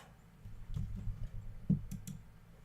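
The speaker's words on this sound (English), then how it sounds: "I cannot wait to get my other keyboard running." Computer keyboard keys clicking and tapping softly nearby in an irregular run of light strokes, with a few sharper clicks near the end and no talking.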